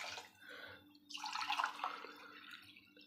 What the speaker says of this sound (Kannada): 2 ಗ್ಲಾಸ್ ಅಕ್ಕಿ ಹಾಕಿದ್ವಿ, 4 ಗ್ಲಾಸ್ ನೀರು ಹಾಕ್ಕೊಳ್ಳೋಣ